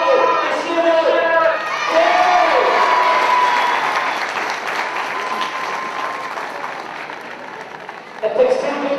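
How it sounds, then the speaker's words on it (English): A large crowd cheers and applauds loudly at the trophy presentation after the 2009 Ulster Club Hurling Final between Dunloy and Ballycran, with whoops and shouts rising over sustained clapping. "A big cheer for JC, Paco, and Shiro."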